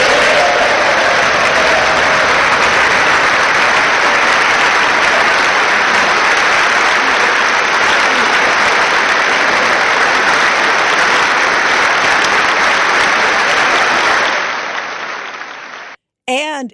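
Loud, sustained applause from a large audience after a speech, a dense wash of clapping that holds for about fourteen seconds, then fades and cuts off abruptly.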